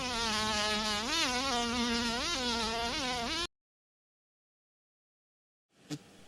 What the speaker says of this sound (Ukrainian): Муха.